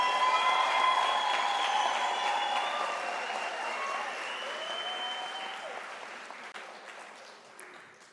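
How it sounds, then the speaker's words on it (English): Sustained applause from a crowd of guests honouring graduates at a university autumn graduation ceremony, filling a large hall with steady clapping that slowly fades toward the end, with faint tonal ringing mixed in. "Ladies and gentlemen, can we give a warm round of applause to our graduates and"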